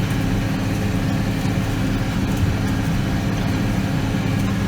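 A tractor pulling a disc through an alfalfa field, its engine a steady, continuous low drone heard close from the cab, unbroken throughout with no talk.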